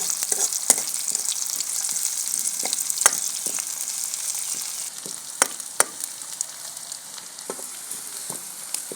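Onion and green chili frying in a pan, a steady bright sizzle with scattered sharp crackles and pops throughout, close and fairly loud, no voices.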